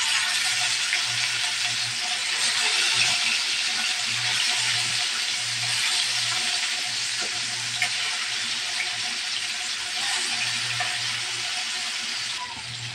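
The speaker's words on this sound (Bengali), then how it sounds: "তেলটা গরম হওয়ার পর আমি মুরগিটা হালকা ভেজে নেব" Chicken pieces rubbed with turmeric and chili sizzle steadily in hot oil in a pan, a dense continuous frying hiss holding loud and even throughout with no talking.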